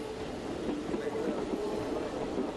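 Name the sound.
Athens subway train passing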